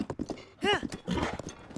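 Hoofbeats of a galloping horse in the video game Breath of the Wild, quick clip-clop thuds mixed with a short whinny, heard under someone talking.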